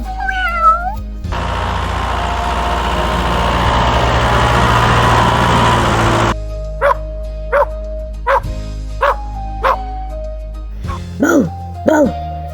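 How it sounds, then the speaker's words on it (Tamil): A farm cat gives two quick rising-and-falling meows right at the start. A long steady rumbling wash follows, then a series of sharp, separate dog barks near the end. "நாமும் நம்மளோட பூனை ஃப்ரெண்ட்ஸ் போல கத்தி பார்க்கலாம். Meow meow."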